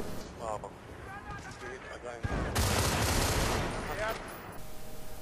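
Burst-fire assault rifle shots in Battlefield Bad Company 2, a rapid run of sharp gunfire cracks at close range ending in a loud dense volley that rings out and fades, with in-game voices and effects underneath.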